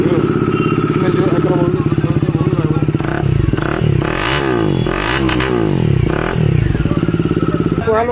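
A modified Bajaj Dominar motorcycle engine idles with a fast, steady thump, then the throttle is blipped in a few quick revs that rise and fall before it settles back to idle. Close and loud.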